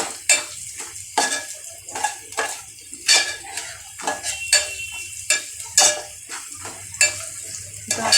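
Onion frying in a pan for dal tadka, with a metal spoon repeatedly scraping and stirring in irregular strokes over a steady low sizzle, close and moderately loud, no talking.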